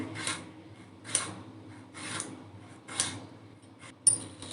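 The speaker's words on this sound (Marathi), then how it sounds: "सगळ्या शिमला मिरचीचे आपल्याला एवढेच भाग घ्यायचे आहेत आता ते कट करून घेते मी" Capsicum is cut into small pieces on a board, five evenly spaced crisp knife strokes sounding close and fairly quiet, with no talking.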